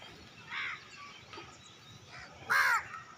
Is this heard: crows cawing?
yes